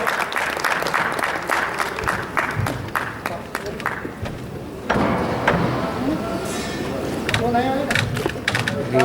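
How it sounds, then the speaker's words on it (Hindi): An audience at a national astrology conference in Udaipur's City Palace applauds a welcoming professor, a dense sustained clatter of many hands with voices and some louder knocks underneath. "तालियों से स्वागत करेंगे प्रोफेसर दिवाकर एस गॉड।"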